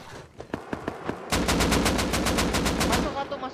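Rapid bursts of automatic gunfire in the survival game Rust, a few spaced shots first, then a loud, sustained volley of fast repeated shots close up.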